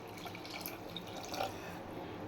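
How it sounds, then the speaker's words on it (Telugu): Water is poured into a cooking pan for an egg and dried prawn curry, giving a soft, steady splashing trickle that stays faint and close. "కొంచెం వాటర్ వేసుకునండి."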